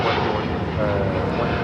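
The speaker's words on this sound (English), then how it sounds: "departing to Seoul on a 787-9 Dreamliner" Boeing 787-9 Dreamliner jet departing from LAX, a brief continuous loud engine roar with a broad rumbling wash, steady throughout with faint voices beneath.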